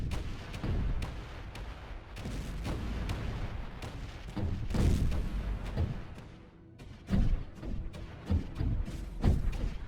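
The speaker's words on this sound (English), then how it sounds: "I love the sound of those cannons firing." Cannons firing in a large Space Engineers battle: repeated heavy booming shots and thuds, dense and overlapping, some close and loud, others duller and farther off, with rumbling between volleys and no talking.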